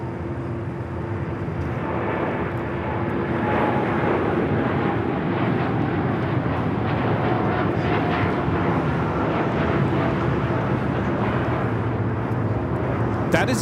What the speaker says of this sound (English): That is United Airlines Flight 32 taking off to Tokyo Narita on the 787-9 Dreamliner.